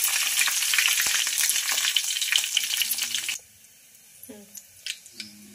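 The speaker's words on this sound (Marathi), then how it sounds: "तेल आपलं तापलेलं आहे, यामध्ये तडका देऊया" Mustard seeds, cumin and finely chopped curry leaves sizzle loudly in hot oil for a tempering, then the frying drops away to near quiet with a few light clinks.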